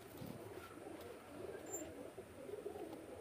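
Pakistani teddy pigeons cooing at a sale, soft low repeated coos running steadily at moderate distance against faint background hiss.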